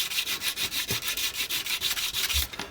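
A hand file rasps back and forth over model locomotive tender side-frames from a DJH 2MT 2-6-0 kit, about fifteen quick, even, close strokes in a steady rhythm with no talking.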